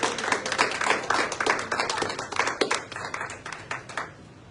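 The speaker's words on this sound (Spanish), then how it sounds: "Pero un aplauso al Señor, a su nombre sea la gloria." Congregation at a church service clapping together in dense, steady applause that fades toward the end, with a voice faintly audible underneath.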